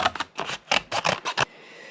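Scissors snip through paper in a quick run of crisp, close cuts, making strips for a paper mache project, then stop and leave a faint room hiss.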